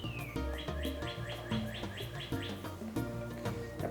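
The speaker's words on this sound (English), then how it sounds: "That bird sounds lovely today." Bird chirping outdoors: a rapid run of bright, repeated tweets and short calls, fairly faint and alone with no talk, set against a soft outdoor background.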